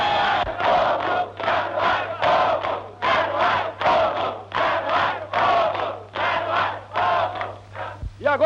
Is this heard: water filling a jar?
no